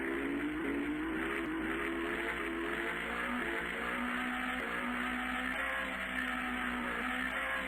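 Car engines drone and rev in a Flash drag racing video game, a continuous synthetic motor tone that climbs and steps through gears under a steady buzzing background.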